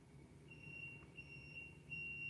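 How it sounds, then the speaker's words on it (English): The backup alarm of a big reversing truck sounds faint and distant, giving repeated high electronic beeps in an uneven pattern over a low background rumble. "I hear that truck backing up. Beep, beep, beep. It's a big truck."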